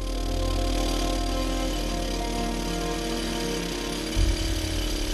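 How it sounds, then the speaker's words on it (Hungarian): A rock drill bores anchor bolts three to four meters deep into a mountain rock face beside a mountain railway, a loud, continuous hammering drone that holds steady throughout, with a short low thump near the end. "3 és 4 méter mélyre fog csavarokat befúrni a sziklába."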